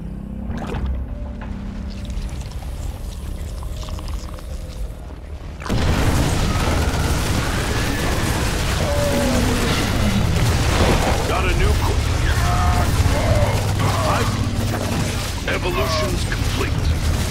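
StarCraft II battle, Zerg versus Terran and Protoss in a 2v2 match: dense rumbling explosions and weapon fire, loud and continuous, surging abruptly louder partway through, with game voice alerts heard over it.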